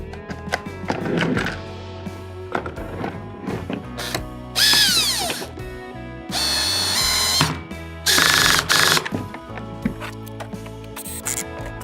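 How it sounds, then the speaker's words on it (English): A power drill on low speed whirs in several short bursts, driving screws, separated by clunks and handling noises of tools nearby. "So I'm going to turn the drill on to low speed"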